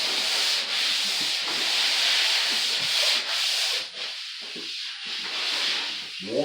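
A drywall knife smooths Plus 3 joint compound over FibaTape on a wall, giving a continuous, close scraping hiss in long overlapping strokes with slight swells and dips and no talk.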